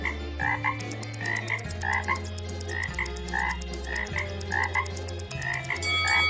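Cartoon frogs croak in quick, repeated bursts over a steady bouncing musical backing, bright and close throughout.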